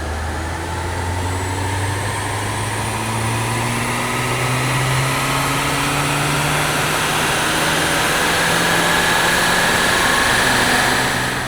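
A big V8 engine fitted in a Mercedes SLK running with the nitrous valve opened, a steady loud drone with slowly rising tones held throughout, no voices.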